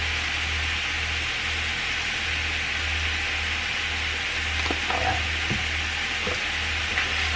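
Ground beef seasoned with lemon pepper sizzles steadily in a hot pan, a constant frying hiss with a low hum beneath and a few scraping stirs near the end.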